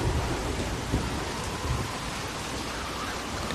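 Heavy rain hisses loudly in The Walking Dead video game, with a low thunder rumble swelling near the start and fading under the steady downpour.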